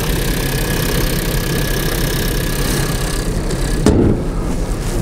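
A Honda Freed with 22,000 km on it idles in a steady, quiet, even hum, with a single brief click near the end and no talking.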